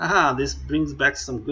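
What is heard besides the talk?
No everyday noise stands out behind the speech.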